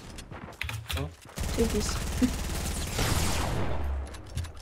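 Rapid gunfire in Fortnite, with a sniper among the weapons, a sustained rattling volley that starts after a short pause and stays loud and near, as a player talks over the shooting.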